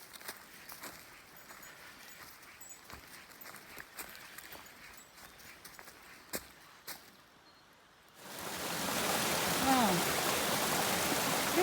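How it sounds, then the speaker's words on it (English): A small waterfall on a Cohos Trail hike enters partway through as a sudden, steady broadband rush, close and continuous. Quiet footsteps and rustling on the trail come before it. "Nice little waterfall."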